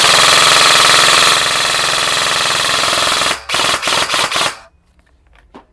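A G&G FAR 9 airsoft gun fires on full auto in a fast, continuous rattling burst, ending in a few short bursts before it stops, loud and close with no talk.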